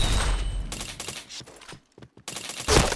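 Rapid automatic gunfire in the first-person shooter video game Point Blank, dense bursts of loud shots that briefly pause, then resume with renewed bursts.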